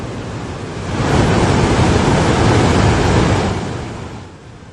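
Loud, dense rushing water roars continuously, swelling for a few seconds then easing, as the Ninoi waterfall pours nearby after heavy rain.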